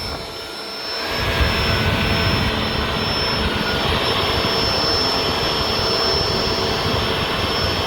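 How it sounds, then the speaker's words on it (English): A vacuum cleaner runs over a rug, starting up after a brief quiet moment and then holding a loud, steady roaring whine close by for several seconds. "We vacuum a couple of different directions."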